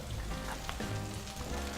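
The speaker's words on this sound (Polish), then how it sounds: "Rybka nam cały czas się pomału smaży." Fish fries slowly in a pan with a soft, steady sizzle and scattered crackles, and no voices.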